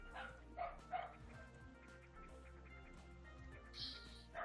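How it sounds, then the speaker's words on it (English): A dog barks faintly in the distance, giving a few soft woofs and yips behind quiet indoor room tone. "I can hear a barking dog in the background as well"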